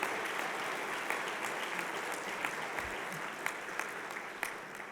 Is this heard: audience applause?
yes